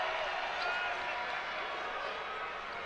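A Jim Hill crowd at a 2012 MHSAA Class 6A boys basketball semifinal reacts to an opponent's air ball with a steady, dense roar and scattered clapping, heard under a commentator's voice.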